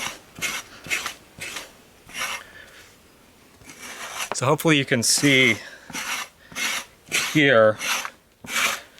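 Repeated rasping strokes of a scraper pulled across an animal hide to remove hair for making hide glue, rhythmic and close, with brief spoken words between strokes.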